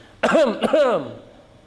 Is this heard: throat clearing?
yes